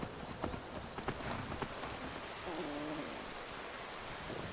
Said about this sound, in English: Ooh, it's raining. It is raining.